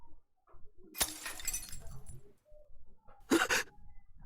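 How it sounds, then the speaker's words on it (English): Glass shatters twice in the Chaos;Child video game, each time with a sudden bright crash and a tinkling tail. The two breaks are a couple of seconds apart, with faint game ambience between them. "That was broken glass"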